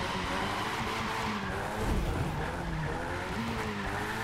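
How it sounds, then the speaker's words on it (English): Cars drifting side by side in the racing video game The Crew 2, with continuous loud tire squeal and engine roar throughout, no talking. "Probably doesn't help that we're drifting right next to each other."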